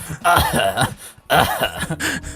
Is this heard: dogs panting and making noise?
no